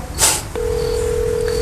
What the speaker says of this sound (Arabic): برا جاوب على التليفون